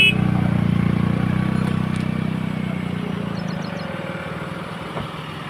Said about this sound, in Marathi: या सगळ्या सैनिकांच्या कार गावातून बाहेर पडत आहेत.